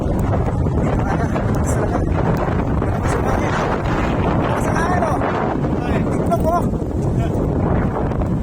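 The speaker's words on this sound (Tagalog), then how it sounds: "Talagang napalakas ang hangin mga kabisyo." Strong typhoon wind buffets the microphone of a cyclist riding into a headwind on a rain-soaked road, making a constant heavy rumble with gusty swells, and a voice speaks faintly underneath.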